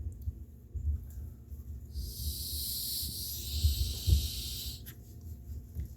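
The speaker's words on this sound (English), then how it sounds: "And then I'm going to blow through that and make sure I got good airflow." Air blown by mouth through a cleaned Coleman Peak 1 camp stove part gives a steady breathy hiss lasting about three seconds, close and moderately loud, with low handling bumps around it.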